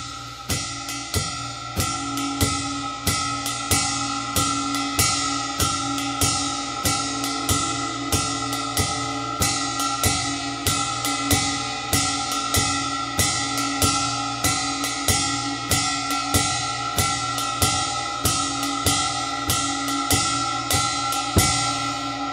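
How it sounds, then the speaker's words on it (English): A jazz drum beat on a kit with the hi-hat added, steady swung cymbal strokes and regular crisp hits repeating evenly throughout at moderate volume, with no talking. "add the hi-hat. It should sound something like this."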